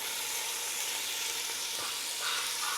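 Beef sizzles steadily as it fries in hot vegetable oil in a pot, a dense, continuous crackling hiss that stays close and fairly loud throughout, with a brief stir partway through.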